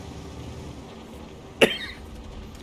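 A single short cough from a game commentator during a tank match, one sharp close burst standing alone over low, steady game background noise.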